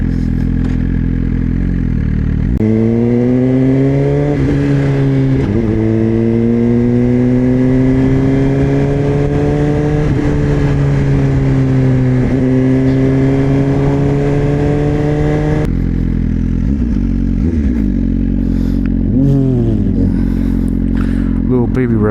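A 2024 Suzuki GSXR1000 motorcycle fitted with a LeoVince exhaust revs loudly and close, with several rising throttle blips over a rumbling idle and a person talking over it.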